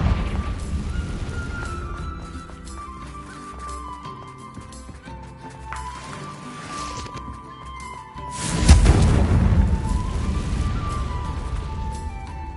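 Confringo blasting curse explosion in the Hogwarts Legacy video game, a loud booming burst erupting partway through over a quieter game backdrop, its rumble lingering afterward.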